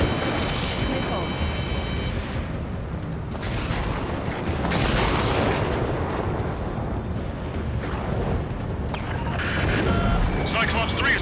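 Missile explosions and combat noise in Ace Combat 7, a dense roaring wash of blasts and rumbling that swells and fades repeatedly, with radio voices talking throughout.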